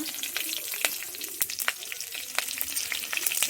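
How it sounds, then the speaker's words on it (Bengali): Slit green chillies fry in hot oil for a Bengali fish curry, making a continuous close sizzle with frequent sharp pops and crackles and no voices. "তেল দিয়ে আমি দিয়ে দিচ্ছি চেরা কাঁচা লঙ্কা"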